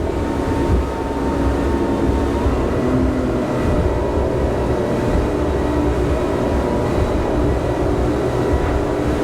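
Engines of a 2019 Greenline NEO motor boat drone at high revs as the hull runs through waves at speed, a loud, steady, dense roar with no break and no talking.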